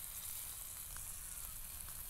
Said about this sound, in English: the calamari just started sizzling